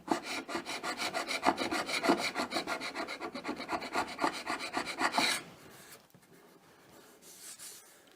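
Steady back-and-forth rasping and rubbing as dried glue spots are scraped off a finished wooden router table part, loud and close for about five seconds, then fading to quieter, intermittent scraping.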